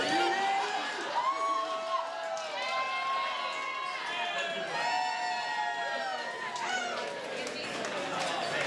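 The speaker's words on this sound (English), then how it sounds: "let's keep those hands clapping" Wedding reception guests cheer and holler after a toast, with many overlapping excited voices and whoops forming a steady, lively crowd roar.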